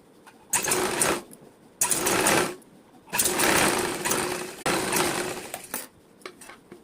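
Sewing machine stitching cloth while joining a princess-cut seam, running in four loud bursts of steady mechanical whirring separated by short pauses, then reversing over the stitch line.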